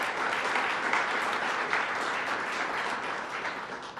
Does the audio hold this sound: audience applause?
yes